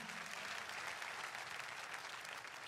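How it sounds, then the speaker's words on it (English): A church congregation at a SCOAN Sunday service claps for Jesus, a dense, steady roar of applause from many hands that holds evenly throughout, with no voices standing out. "Once again, let's clap for Jesus."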